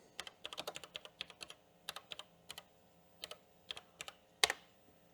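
Keystrokes on the keyboard of a Bosch Rexroth PG4, a rare 80286 industrial PLC computer, tap out in an irregular quick burst, then scattered single presses with gaps and one louder final clack, close and alone without talk.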